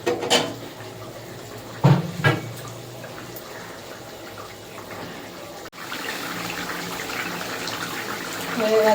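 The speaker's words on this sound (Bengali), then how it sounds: "আর একটু জল দেবো।" Water splashes into a pot of simmering katla fish curry with turnip: a couple of short pours near the start, then a soft, steady bubbling and trickle at moderate loudness.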